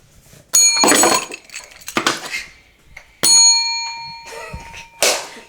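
A small hand bell rings in separate bright strikes, each leaving a sustained metallic tone that slowly fades, with quieter handling sounds between rings, close to the listener.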